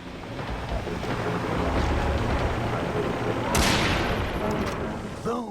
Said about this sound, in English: this sniper rifle is basically a rocket launcher now